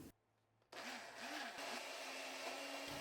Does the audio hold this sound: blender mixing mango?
yes